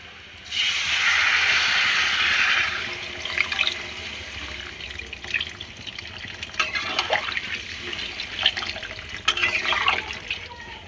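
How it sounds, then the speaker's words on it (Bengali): Water is poured into a pan of potato curry (aloo dum) with fried spices, giving a steady broadband splashing rush for about two seconds, followed by softer sizzling and clinking kitchen sounds. "এবারে দিয়ে দেবো পরিমাণ মতো জল।"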